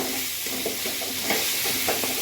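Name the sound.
fried cauliflower stirred and sizzling in pan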